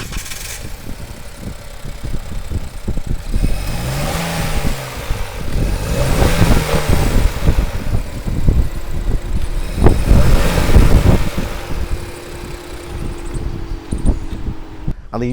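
A Nissan X-Trail 1.5L three-cylinder engine starts and runs, a loud close rumble swelling in revving surges before settling to a steady hum, with someone talking over it.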